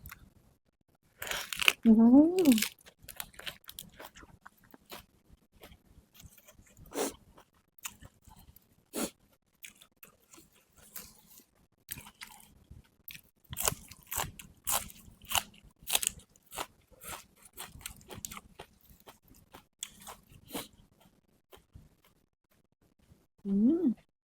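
Loud crunchy bites and chewing of a big mouthful of som tam with rice noodles and cooked shrimp, irregular crisp crunches and wet mastication close to the mic, with brief vocal sounds at the start and end.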